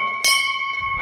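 A temple bell rings once with a bright metallic strike, its steady tones humming on and fading through the second.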